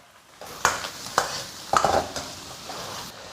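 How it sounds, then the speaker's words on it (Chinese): Beef stir-frying in a wok over high heat as ginger, scallion, garlic and pickled chili go in: a steady loud sizzle broken by several scraping spatula strokes against the pan. "当我们炒至这个油渐渐变清亮的时候，下入姜葱蒜和野山椒。"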